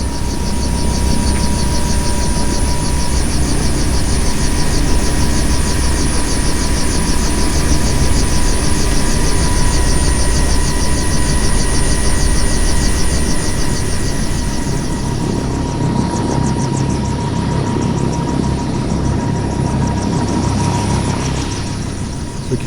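A Bell Cobra attack helicopter with a two-bladed rotor runs close by at an airshow, a loud steady turbine whine with a constant rotor drone, no talking.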